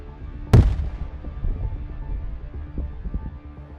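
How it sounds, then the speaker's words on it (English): A Russian tank sets off a landmine in a sharp, loud blast that rolls off into a rumbling tail. Scattered thuds and crackles of combat continue in the background. "One Russian tank, trying to avoid artillery strikes, took an alternate route but hit a landmine."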